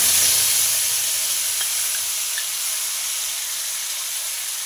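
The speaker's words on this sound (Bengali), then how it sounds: "এটা ভাজা হয়ে গেলে এবার এই দইয়ের মিশ্রণটা এর মধ্যে দিয়ে দেব।" A yogurt and spice mixture fries in hot oil with a dense, even hiss and sizzle that holds steady throughout, close and fairly loud, with no voices.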